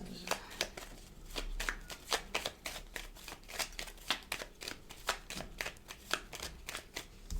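A deck of tarot cards is shuffled by hand in a steady run of quick riffling bursts, crisp and close, repeating many times with barely a pause between them.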